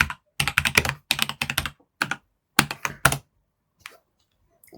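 Bursts of typing on a computer keyboard while entering a Bash command, close and clear, in several quick clusters of clicking keystrokes separated by short pauses, ending in silence.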